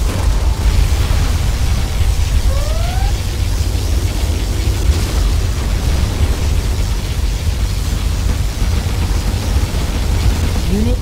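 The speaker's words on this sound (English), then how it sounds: "Particle cannon ready. Particle cannon activated." A particle cannon blast in Command & Conquer Generals Zero Hour roars as a sustained, loud, broadband explosion that rumbles steadily for the full stretch, with brief rising electronic tones cutting through it.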